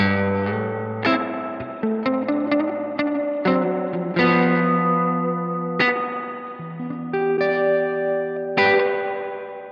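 Electric guitar played through a Zoom G11 multi-effects unit with a Fender-style spring reverb, picking a series of ringing chords and single notes that trail off in a lush, splashy reverb tail, heard clearly with no talking.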